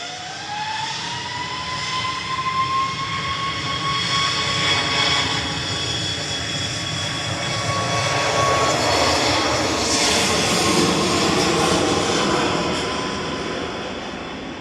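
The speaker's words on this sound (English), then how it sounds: "Ryanair operated by Malta Air Flight 2070 to Alicante." A Ryanair Boeing 737 MAX 8, operated by Malta Air, rolls out at Manchester Airport with a sustained, loud jet engine roar and a rising whine. The noise swells and then fades slightly, and no one speaks.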